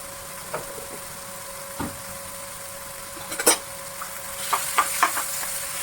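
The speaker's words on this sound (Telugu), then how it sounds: "ఒక చిట్కేడు పసుపు అనేది వేస్తున్నాను ఆయిల్లోనే" A pinch of turmeric dropped into hot oil in a pan for a tamarind chutney, giving a soft sizzle with a few close stirring clinks that grow busier toward the end.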